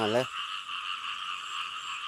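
Thai frogs calling in a steady dense chorus, continuous and fairly close, following a brief burst of voice at the start.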